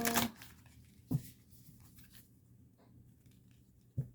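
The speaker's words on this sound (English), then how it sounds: "I just want to give these another quick shuffle." An oracle card deck is shuffled by hand in a few short crisp bursts separated by pauses, close and fairly quiet, with no talk.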